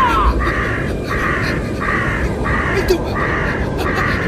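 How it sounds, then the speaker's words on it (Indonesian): Crows caw repeatedly in a steady rhythm, loud and close over a constant roar of noise, as a large flock of birds approaches. "Itu bukan awan. Itu burung-burung."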